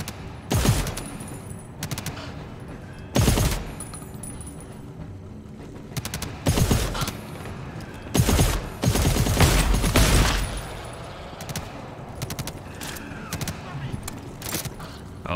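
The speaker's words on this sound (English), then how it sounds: "Oh, they shoot each other." Bursts of gunfire from the video game GTFO, several loud volleys of shots in irregular clusters with quieter stretches between, a voice talking over parts of it.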